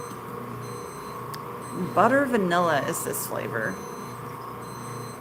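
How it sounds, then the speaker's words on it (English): Faint electronic beeps chirp intermittently in the background of a marshmallow-making kitchen, steady thin tones recurring near the start and end while a person talks in the middle. "You hear the beeps in the background."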